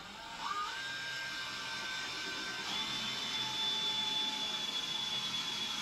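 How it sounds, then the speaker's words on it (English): A power drill whines at high speed, boring steadily through wood, its pitch stepping up as it goes, loud and close throughout. "So now I can drill all the way through."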